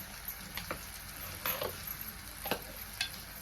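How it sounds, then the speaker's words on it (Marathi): A spatula scrapes and stirs spices into grated bitter gourd and tomato in a pan for a Marathi-style bhaji, giving a few soft, scattered strokes over a low, quiet background. "सगळं आता मिक्स करून घेते"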